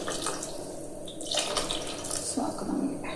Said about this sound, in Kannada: ಇದಕ್ಕೆ ಎಷ್ಟು ಬೇಕು ಅಷ್ಟು ನೀರು ಹಾಕೋಬೇಕು,